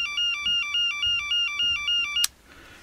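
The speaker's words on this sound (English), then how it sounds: "you should hear a tone" A telephone line test set, switched on at a modular phone jack, gives a loud warbling tone that pulses about eight times in an even rhythm before cutting off with a click into near quiet.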